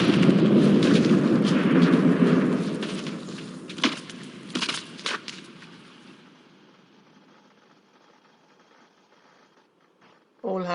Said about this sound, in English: And there's an explosion.